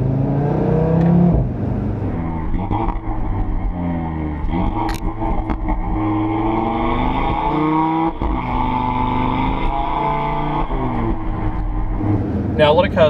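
A 2018 Audi RS3 engine and exhaust while driving, rising and falling revs with swooping pitch sweeps and a few sharp crackles, close and loud, with a voice talking over it.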